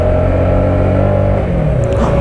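Neco NC-N01 125cc motorcycle engine running close by with a steady buzzing, nasal drone and a slight drop in pitch near the end, loud and alone.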